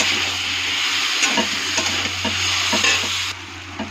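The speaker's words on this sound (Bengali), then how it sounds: "এখন সবটা ভালো করে মিক্স করে ভাজা ভাজা করবো" A spice mixture sizzles steadily in a hot pan while a utensil scrapes and stirs through it in irregular strokes, close and loud, with no voices.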